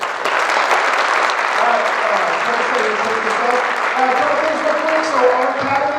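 Audience applause at a black belt martial arts event, a dense sustained wash of clapping from a crowd indoors, with some voices and cheering mixed in throughout.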